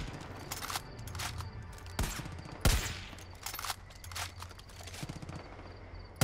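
Gunfire in the video game Far Cry 5: several sharp single shots and short bursts ring out over a dense, continuous outdoor game ambience, with no talk.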